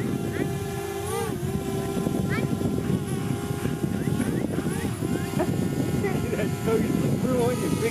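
A DJI Spark drone flying over Ocean Beach: a continuous high-pitched motor whine whose pitch keeps bending up and down, fairly close and loud, over wind and surf, with excited voices.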